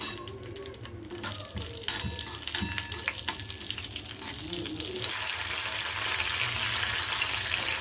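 Cumin seeds, fenugreek and dried red chillies fry in hot oil for tamarind chutney, starting with clattering drops and bursts, then building into a steady loud sizzle close by.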